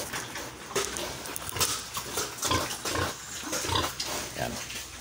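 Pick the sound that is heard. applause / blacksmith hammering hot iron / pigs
pigs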